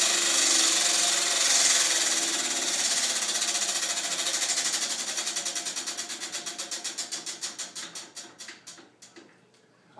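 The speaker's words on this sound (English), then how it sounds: "But let's spin the wheel." A radio contest prize wheel spins, its rapid clicking ticks gradually slowing and spacing out until the wheel comes to rest, with no voices over it.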